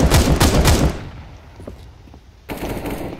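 Auto sniper rifle fire in Counter-Strike: Global Offensive, with a loud, dense burst of rapid shots for about a second, a quieter stretch with a few faint distant pops, then another loud burst of shots to the end.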